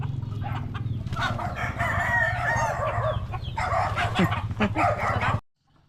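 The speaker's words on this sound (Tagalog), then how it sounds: "Kahanap tayo ng manok" Chickens clucking close by, with a rooster crowing and a dog barking in the mix, busy overlapping calls that cut off abruptly at the end.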